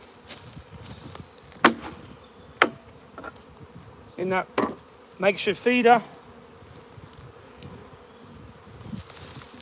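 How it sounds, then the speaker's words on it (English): Dense honey bee buzzing swells around a nuc hive as a crowded mass of bees is shaken in, with a makeshift feeder full of bees nearby; someone speaks over the steady hum, with a few sharp knocks. "So let's going to shake these bees in. Way too many bees in this."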